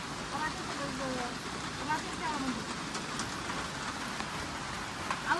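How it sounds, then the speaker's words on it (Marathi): Heavy rain pours down in a dense, continuous hiss with scattered drips and splashes, steady throughout at moderate level, with faint voices and a hen's clucks underneath. "खतरनाक पाऊस यायला लगे."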